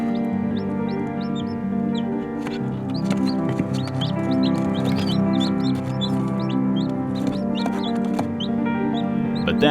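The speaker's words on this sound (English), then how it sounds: "It's a baby chick." On a small Canadian homestead, newly hatched baby chicks peep in rapid, high, repeated chirps alongside clucking chickens, the calls continuous and close over a steady low hum.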